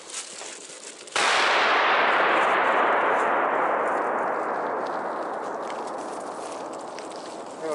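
A New Year's Eve firecracker goes off with a sudden loud burst close by, then rushes into a long, dense crackling hiss that slowly fades over several seconds.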